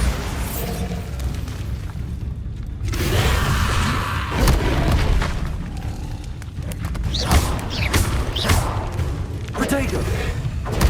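Blasting spell explosions in Hogwarts Legacy combat, a series of loud booming bursts and rumbles over dense battle noise, with a voice calling out spell names.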